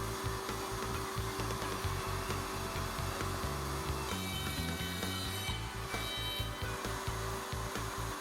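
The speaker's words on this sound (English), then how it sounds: "When routing box joints, the board is always flipped, keeping the same edge against the side stop." A router cuts box joints on a Leigh RTJ400 router table dovetail jig, a continuous whining hum broken by rapid rhythmic chatter as the bit bites into the wooden boards, close and steady.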